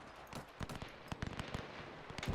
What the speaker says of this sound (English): that's definitely the hand grenades